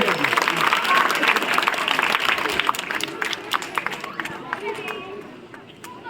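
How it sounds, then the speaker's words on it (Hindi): A crowd at a village welcome event in Padda, Manasa, applauds to greet guests, loud dense clapping at first that thins out and grows more scattered toward the end, with voices under it. "आप सभी ताली बजाकर उत्साहवर्धन करें।"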